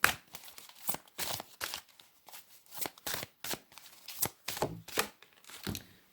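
Tarot cards being pulled out and handled, a rapid series of close papery flicks and riffling shuffles in irregular bursts, no speech.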